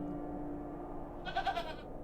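Goat bleating in the point-and-click game The Excavation of Hob's Barrow, a short wavering bleat rising over a steady low hum late in the clip, fairly close and alone.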